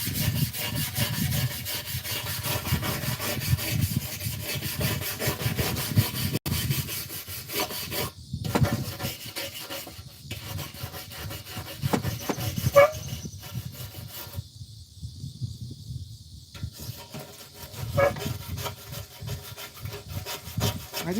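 Sandpaper rubbing over an old part from a 70-year-old Craftsman lawn mower, a steady rasping scrape that continues almost nonstop with brief pauses, close and moderately loud, with no voices.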